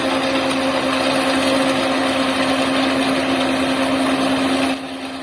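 A rice harvester's engine runs at a steady, loud drone with a constant hum that drops slightly in level near the end.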